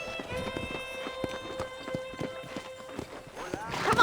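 Horse hooves clip-clop at a steady walking rhythm in the Red Dead Redemption video game, close and moderately loud over a sustained tonal music bed, with a brief rising whoosh at the end.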